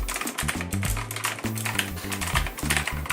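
Rapid keystrokes on a Sades Shield RGB mechanical keyboard, a dense run of sharp, close clicks and clacks with short pauses between bursts, with no talking.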